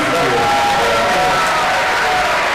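An audience at a film festival Q&A for "The Sun Never Sets" applauds, a dense, steady wash of clapping from a full room that stays loud throughout, with faint scattered voices mixed in.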